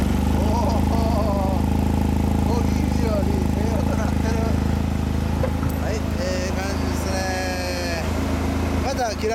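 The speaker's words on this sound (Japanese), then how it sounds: "エンジン音聞かせてもらえますか？" A 2004 Honda CB750 motorcycle engine with an SP Tadao titanium full exhaust idles steadily and loudly, a deep continuous rumble with people chatting over it.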